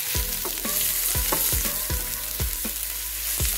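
Onion and aubergine slices fry in a hot pan with a steady close sizzle, broken by repeated sharp scrapes and knocks as the vegetables are stirred.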